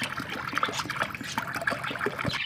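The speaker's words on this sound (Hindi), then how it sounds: "इसको पानी यहाँ से भरेंगे" Water trickling and splashing as a budgie cage's water container is refilled, a steady close liquid dribble running throughout with small clinks.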